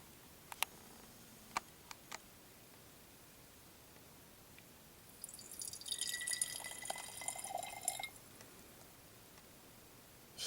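Water being poured from a cup into a bed bug steam cleaner makes a faint, bright trickling splash for a couple of seconds, preceded by a few isolated ticks and drips in a quiet room.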